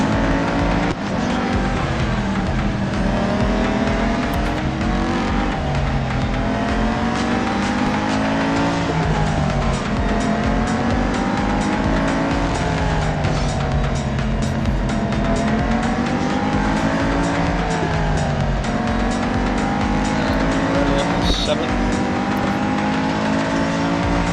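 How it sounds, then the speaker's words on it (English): Acura race car engines roar continuously in the Real Racing 3 video game, with rising and falling revs through gear changes and intermittent tire squeal, loud and steady throughout with no talking. "that's an Acura car"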